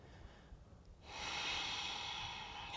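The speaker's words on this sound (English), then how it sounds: "Find your deep breaths." Slow, deep breathing during an all-fours breathing exercise, quiet at first, then a long, steady, airy inhalation that swells and holds, close to the microphone with no talking.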